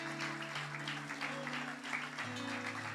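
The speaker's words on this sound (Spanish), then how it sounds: "Dale un aplauso al Señor." Church congregation applause at a Holy Communion service, an even wash of clapping carried over held keyboard chords that change near the end.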